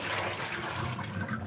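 Tap water runs steadily while sweet potatoes are washed under it, a continuous close splashing stream with no voices.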